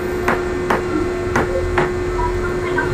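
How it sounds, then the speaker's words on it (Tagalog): Four sharp, evenly spaced knocks of a hammer striking a cellphone LCD screen, close and loud over a steady electrical hum, with no talking. "tingnan nyo kung gaano katibay yung LCD, kung gaano ko siya pinupukpok"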